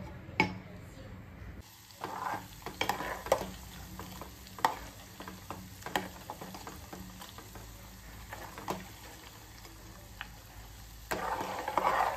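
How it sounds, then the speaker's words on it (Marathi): Ghee being stirred in a pan to keep it from sticking, with a low sizzle under irregular scraping and clinking of the spoon against the pan. "आता थोडं थोडं मी हलवून घेते, कारण खाली स्टिक होतं, लागतं, म्हणून मी असं हलवून घेतलंय"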